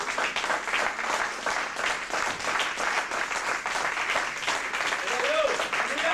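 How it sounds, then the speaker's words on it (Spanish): Sustained church applause from a congregation, a dense continuous wash of many hands clapping, steady and fairly loud throughout, with voices mixed in underneath. "Fuerte aplauso al Dios que provee."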